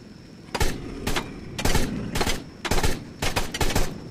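Rifle gunfire in ARK: Survival Evolved, aimed at a riot shield in an ice cave, loud rapid bursts of shots in several groups close by.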